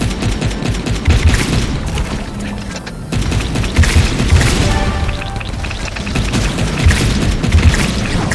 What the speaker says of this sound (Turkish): Füzeyle vurabiliyoruz.